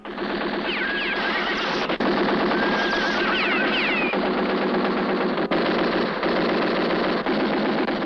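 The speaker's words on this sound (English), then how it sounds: "Klein, shoot him dead" Rapid gunfire in a western film shootout, loud sustained bursts of rattling shots with brief breaks, dense and continuous without voices.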